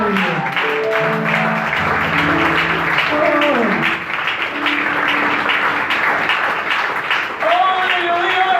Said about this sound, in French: Acclamez encore très fort.